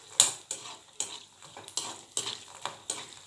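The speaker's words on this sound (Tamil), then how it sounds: "அதை கொஞ்சம் நல்லா ஃப்ரை பண்ணிக்கோங்க நெய்யில்." Almonds frying in ghee are stirred in a pan, giving regular clinking scrapes about twice a second over a faint sizzle, close and fairly quiet, with no talking.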